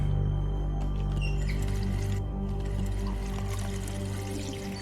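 Water runs steadily into a sink in The Wolf Among Us, a continuous gushing pour under a low background hum with faint drips and clinks.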